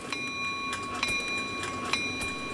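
A train in the Indonesian railway video game KAIJT rumbles steadily at moderate volume, with sharp rhythmic clicks recurring about once a second over sustained tonal whines.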